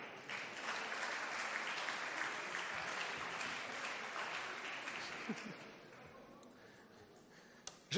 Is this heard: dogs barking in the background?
no